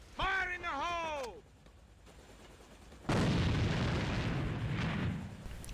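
A grenade blast in the AVA first-person shooter, heard during an esports grand final match: a loud, sustained explosive roar in the second half, following a brief sung or shouted voice and a quiet gap.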